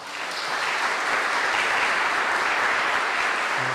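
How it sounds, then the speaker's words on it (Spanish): Congregation applause during a Spanish-language Mass for first communion girls, building quickly into a full, sustained wash of clapping from many people, loud and steady with no talk. "Tengan la bondad de aplaudirlas."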